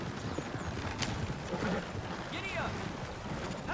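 Horse hooves clip-clop at a steady trot as a stagecoach rolls along in a video game, with voices murmuring faintly over the rhythmic hoofbeats.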